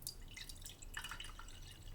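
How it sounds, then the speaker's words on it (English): Tap water poured in a small amount into a lemonade container, giving faint close trickling and dripping sounds over a steady low background hum. "I'm going to pour a small amount of tap water here."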